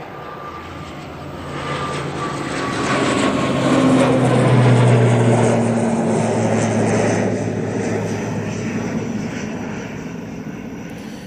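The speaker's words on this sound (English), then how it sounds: "So that ATR 72 is off to Newquay." An ATR 72 turboprop takes off at Manchester Airport, a steady propeller drone with a low engine hum that swells to a loud peak midway and then eases off gradually as the aircraft climbs away.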